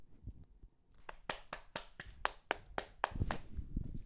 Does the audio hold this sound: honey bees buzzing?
no